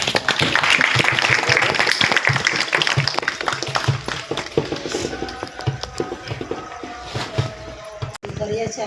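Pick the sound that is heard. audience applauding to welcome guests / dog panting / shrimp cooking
audience applauding to welcome guests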